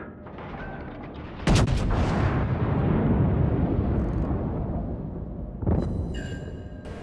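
Heavy naval gun salvos boom from warships in World of Warships, with a loud blast near the start, a long rumbling tail, and another salvo later, no talking.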